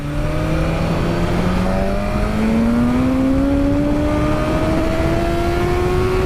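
A BMW S1000RR superbike engine revs steadily upward in one long, smooth rising pull, loud and close, with no talk over it.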